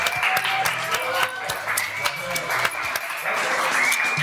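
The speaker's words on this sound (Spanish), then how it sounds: "Señoras y señores, un aplauso para nuestro buen amigo Abraham." Studio audience applauding for a contestant who won concert tickets, continuous clapping with crowd noise and a voice speaking over it.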